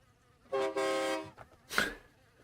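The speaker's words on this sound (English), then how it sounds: "Oh, distant train horn." A train horn in the video game Starground sounds two sustained tonal blasts, one right after the other, then a brief breathy burst, fairly faint and far off, with no talking over it.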